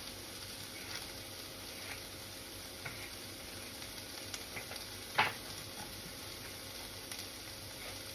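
Capsicum sizzling softly in a hot pan while teriyaki chicken cooks, a faint steady fry with a brief louder crackle midway.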